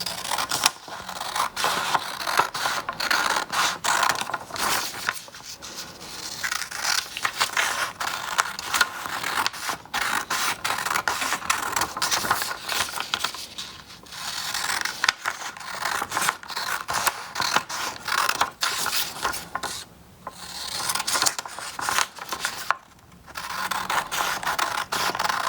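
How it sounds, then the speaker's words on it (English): Scissors cut out a paper heart-shaped pop-up card along printed lines, a close, continuous run of crisp snips and paper rustling with short pauses, no talking. "So the first thing you need to do is cut out your heart along these lines."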